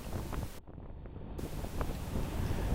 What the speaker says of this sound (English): Into 26 gusting 30 knots of wind against tide made for a lumpy ride